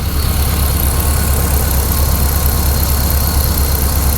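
An LS3 V8 fitted with Lokar valve covers idles steadily, a loud, close, continuous engine rumble with an even vibrating tone and no talking.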